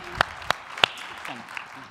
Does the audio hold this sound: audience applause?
yes